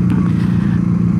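A Patagonian Eagle 250cc motorcycle accelerating, its steady low engine drone close and loud, throbbing evenly throughout with no voices.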